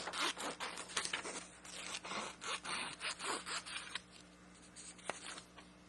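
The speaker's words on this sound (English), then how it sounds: "So we will cut out the chest part." Scissors snip through paper to cut out collage pieces for a paper robot, a quiet, close series of rhythmic crisp cuts that slow and thin out toward the end.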